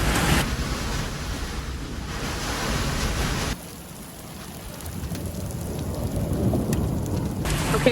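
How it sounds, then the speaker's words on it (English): Hail and rain pound on a car during a thunderstorm, a dense, loud, continuous drumming roar heard from inside the vehicle, easing slightly for a few seconds before intensifying again. "You hear this? It feels like hail."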